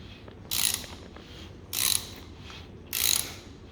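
Three evenly spaced bursts of dry mechanical scraping and clicking from piston rings turning inside a 2JZ-GTE billet engine block during a build check, each lasting about half a second, close and alone with no talk.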